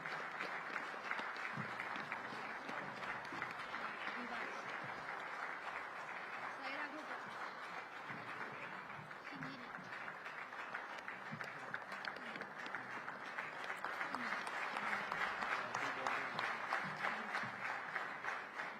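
A large crowd applauds steadily to welcome the chief guest, Union Home and Cooperation Minister Amit Shah, at the NDDB diamond jubilee ceremony. The dense, continuous clapping fills the whole stretch and swells slightly toward the end, with voices faintly mixed in.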